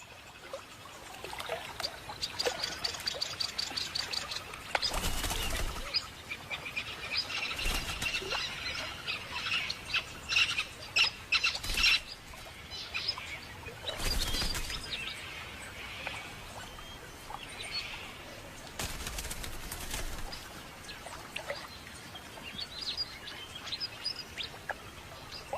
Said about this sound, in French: Ces perchoirs se prêtent aussi bien aux roucoulades des pigeons qu'au badinage des perruches à bonnet bleu.